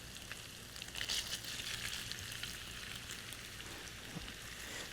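Crumbled Italian sausage frying in a pan for a summer Bolognese, a soft, steady sizzle and crackle with a brief louder spatter near the start, fairly quiet and without talk.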